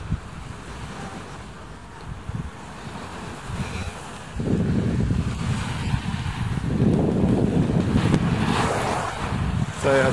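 Ocean waves wash onto a beach right in front of a beach villa, a steady rushing surf with gusty wind noise that swells louder in the second half, with no voices.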